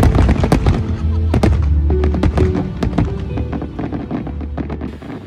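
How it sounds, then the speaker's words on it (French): Fireworks explode at night in San Francisco as a rapid series of loud sharp bursts and pops, dense at first and thinning out, heard close with crackling tails. "on termine la journée en feu d'artifice"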